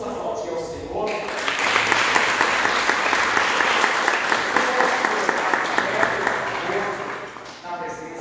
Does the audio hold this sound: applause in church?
yes